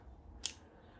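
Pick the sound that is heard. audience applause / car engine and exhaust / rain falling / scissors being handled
scissors being handled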